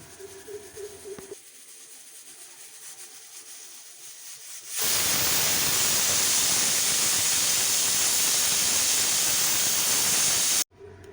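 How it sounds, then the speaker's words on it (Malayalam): A pressure cooker of chicken on a gas stove starts venting: quiet kitchen background, then a sudden loud, continuous roaring hiss of steam that lasts about six seconds before stopping sharply. "ഗ്യാസുമ്മ കുക്കറിൽ കോഴിയൊക്കെ വെച്ച് കൊടുത്തിട്ടുണ്ട് കേട്ടോ അപ്പോൾ അത് വിസിലൊക്കെ അടിക്കുന്നുണ്ട്"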